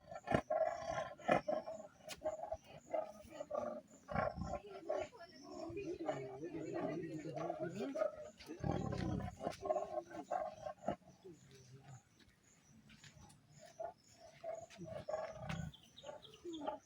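A tiger at Vandalur zoo gives loud, rough roars and growls at close range, with bursts around the middle of the clip and people talking throughout.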